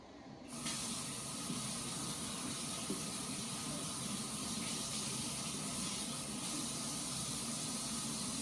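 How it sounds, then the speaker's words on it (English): Water runs steadily from a tap at close range, a continuous broadband hiss and splash as hands are rinsed, starting abruptly and holding even with no talking. "I'm just gonna go rinse my hands off before I grab this."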